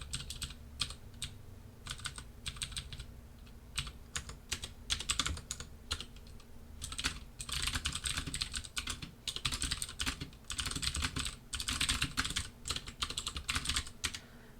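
Bursts of rapid, close keystrokes on a computer keyboard, steady clicking runs with short pauses and a heavier flurry of typing in the second half, no voices.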